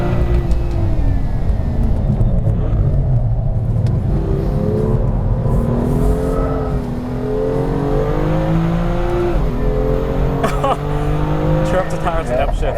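A 2016 BMW M2 with manual DCT accelerating hard on a drive, its engine note climbing in rising sweeps through the gears, loud and continuous, with brief tire noise and someone talking over it.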